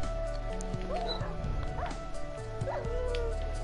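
A dog whimpering and yipping in a game, with several short rising whines spread across a steady background hum, moderately loud and without talk.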